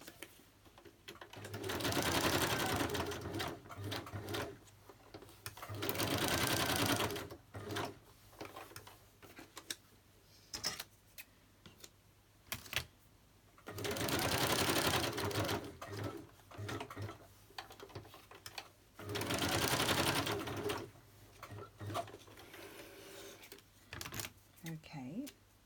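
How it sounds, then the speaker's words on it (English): Bursts of a sewing machine stitching around Christmas paper ephemera, several runs of steady whirring separated by pauses, with a voice talking in the gaps. "Right, let me stitch around it."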